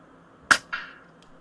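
Two shots from a KalibrGun Cricket .25 air rifle at a 110-yard target, heard from the shooter's position: a sharp, fairly loud crack followed about a quarter second later by a softer, shorter report, with no talk.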